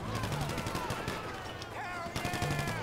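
Rapid gunfire bursts in GTA Online during a survival mode fight, loud continuous rattling shots layered with game sounds and engine hum, a voice talking over it.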